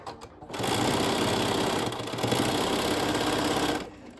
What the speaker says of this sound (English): the reason you're stitching it from this side is that you'll go through the middle of the rickrack